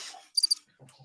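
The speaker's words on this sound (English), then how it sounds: "We've got crickets." Crickets chirp in a short sound effect, three quick bright trills close together, followed by faint low murmurs.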